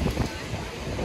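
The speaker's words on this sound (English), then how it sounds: "It's a really windy day right now." Strong wind buffets the microphone at an Australian beach beside rock pools, a steady loud roar with gusty low rumbling throughout the short stretch, no voice audible.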